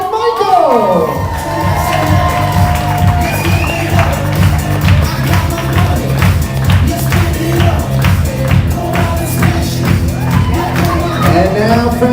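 Wedding guests cheer and applaud loudly for the matron of honor and best man, a dense crowd roar with shouts and whoops under steady music for the whole span.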